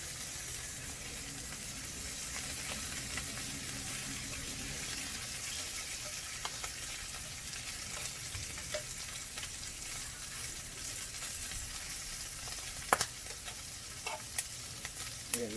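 Doves seasoned with paprika and black pepper frying in a pan, Hmong style, giving a steady, fairly quiet sizzle throughout with a few sharper pops and crackles near the end, and no talking.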